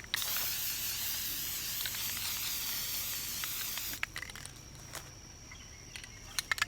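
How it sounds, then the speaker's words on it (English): A spray paint can hisses steadily onto a shooting target for about four seconds outdoors, then stops, leaving faint insect-like chirps and small clicks. "Spray paint's your friend. Not only does it paint the target"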